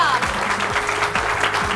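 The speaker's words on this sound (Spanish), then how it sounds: "Vamos a darle un fuerte aplauso a Rebeca, que se estrena en la cámara" A studio audience gives brief, steady applause for Rebeca on a university TV show, with dense clapping that fills the whole short stretch and stays close and even.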